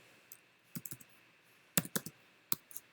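Scattered keystrokes on a computer keyboard, a few quick clusters of light clicks with gaps between them, close and fairly quiet.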